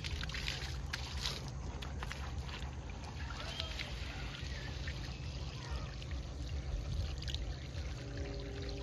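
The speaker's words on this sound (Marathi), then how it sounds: "पूर्ण खाली जाईपर्यंत पाणी मारावं लागतं" Newly built brick walls at a construction site are sprayed with water for curing, making a steady hissing, splashing stream that runs continuously and evenly throughout, with a faint background hum.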